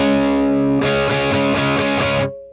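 An electric guitar plays a distorted, high-gain tone through a DIY volume pedal with boost circuit, set all the way down yet still sounding: a sustained chord followed by a run of rhythmic strums that stops abruptly.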